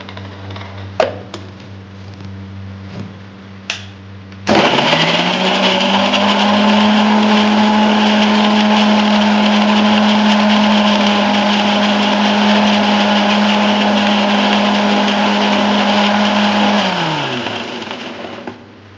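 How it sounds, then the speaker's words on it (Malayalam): An electric mixer grinder blends drink ingredients in a jar, starting abruptly after a few quiet clicks and knocks, running as a loud, steady whirring drone with a constant motor hum, then winding down near the end. "നമുക്കിനി ഇതെല്ലാം ഈ ജാറിലേക്ക് ഇട്ടിട്ട് ഒന്ന് അരച്ചെടുക്കണം"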